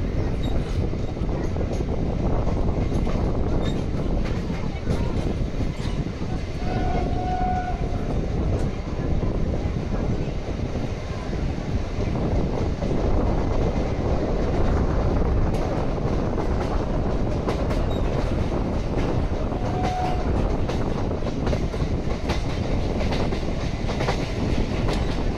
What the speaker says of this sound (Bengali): আমাদের ট্রেন এই যাত্রাপথে হুগলি নদীকে অতিক্রান্ত করে হুগলি ঘাট স্টেশনে পৌঁছাবে